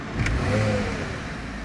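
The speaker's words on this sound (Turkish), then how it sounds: "Araç şu anda çalıştırıyorum." A Porsche engine cranks and catches with a short rising rev, then settles into a quieter, steady running hum, heard close with no voices.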